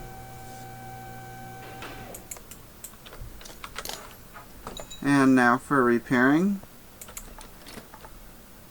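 Rapid mouse clicking while repairing parts in Car Mechanic Simulator 2015, heard as a scattered series of sharp, light clicks, with someone talking briefly partway through.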